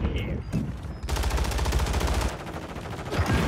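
Rapid automatic assault rifle fire in a video game rattles in a loud, close, continuous burst for about a second and a half, with a shorter burst toward the end.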